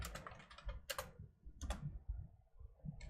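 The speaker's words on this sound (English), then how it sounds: "I'm typing off of the screenshot to make it a little bit easier to do this." Close, quiet typing on a computer keyboard, bursts of rapid key clicks separated by short pauses, with a few sharper individual key taps and no talking.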